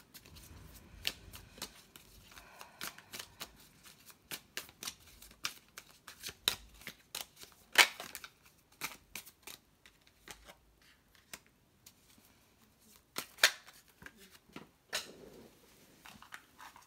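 Tarot cards shuffled and handled by hand, a steady run of soft riffling flicks and snaps with a few sharper card slaps, close and fairly quiet with no talk.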